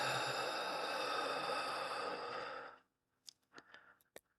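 A long, steady, airy deep breath fills the first few seconds and then fades out, followed by a few small clicks and soft rustles. Close and quiet.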